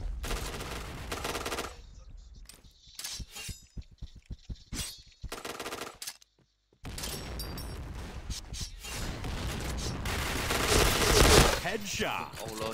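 Rapid gunfire crackles through a Point Blank shooter match, with a sharp burst followed by a string of single shots, then a dense, loud sustained volley building toward the end.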